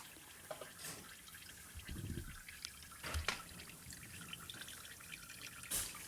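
Engine oil drains from the oil pan of a Ford Flex into a catch pan, a faint trickle with occasional drips and small splashes, heard alone at close range.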